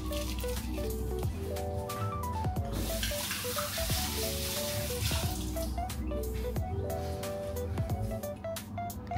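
Spicy chicken feet adobo with Thai chilies cooking in a pan, a soft continuous sizzle and bubbling beneath a bright melodic background music track, with no talking.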